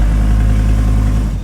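A Dodge Ramcharger's 5-cylinder diesel engine runs with no mufflers on a makeshift exhaust, a loud, close, deep and steady rumble with no talk over it.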